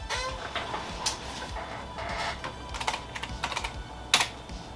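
Someone types a command on a computer keyboard while setting up a Sound Blaster Vibra 16XV CT4170 sound card, producing quiet, irregular clicks of close keystrokes with small pauses between them.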